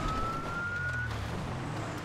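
Police car siren in the video game GTA 5 with the LSPDFR mod, a steady electronic wail under game engine noise, close and continuous throughout.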